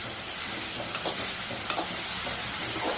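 Curry leaves and onions sauté in a pan for a drumstick curry, giving a steady, close, dense sizzle with a few soft stirring scrapes throughout.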